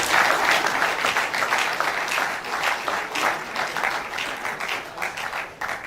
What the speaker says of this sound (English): I had expected that our applause for him would be as big as his stature